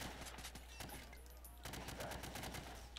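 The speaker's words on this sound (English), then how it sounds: "Now, shoot the targets while firing from the hip." Rapid hip-fired gunfire in the Men of War: Assault Squad 2 video game, a dense run of loud shots at a firing range over steady background noise.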